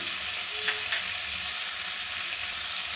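Rohu fish and shrimp fry in a pan with a steady, close hiss of sizzling oil and a few faint stirring clicks throughout.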